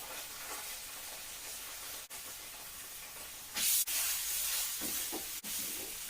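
Tomato puree poured into a hot pot of sardine pepper soup with peppercorns, a constant hissing sizzle that briefly surges louder as the liquid hits, with brief clicks of utensils.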